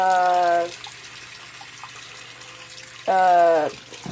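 Warm water runs steadily from a tap into a plugged sink, a soft continuous wash that sits under two short bursts of a person speaking.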